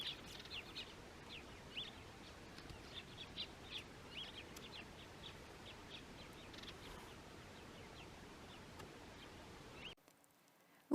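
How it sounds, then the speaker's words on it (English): Birds call along the dry Auob River in the Kalahari, a steady stream of short high chirps and tweets scattered across a faint, hot-day background, fairly distant and unobtrusive, before the sound cuts out near the end. "We always keep an eye out for birds and smaller creatures because they're always busy, even in the heat."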